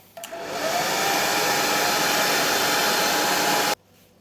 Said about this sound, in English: Hit it with the hairdryer.